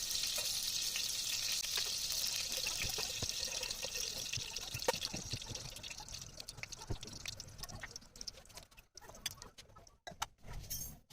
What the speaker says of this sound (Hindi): पैन में 1/2 कप घी लेंगे और उसे हीट करेंगे। इसमें हम 2 अदद लौंग डालेंगे और 4 इलायची डालेंगे।